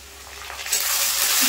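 Ginger garlic paste frying with onions in a pan for fish curry (rui macher jhol), a steady sizzle and stirring scrape that grows louder toward the end, close and alone.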